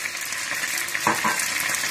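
Butter melting in a hot frying pan, heard alone as a short, even sizzle with a soft crackle.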